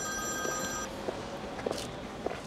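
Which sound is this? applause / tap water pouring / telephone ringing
telephone ringing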